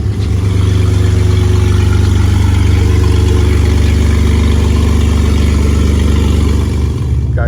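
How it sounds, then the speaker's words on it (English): A BMW E46 running with open headers, no exhaust and gutted stock catalytic converters, giving a loud, steady, raw engine drone close by that holds evenly throughout with no talking. "Open headers, no exhaust, guys. So basically we have stock cats. We ended up gutting them out. No exhaust. This is what it sounds like."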